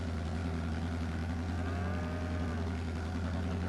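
Cows in Farming Simulator 22 give one low, drawn-out moo over a constant loud engine-like hum that fills the whole stretch.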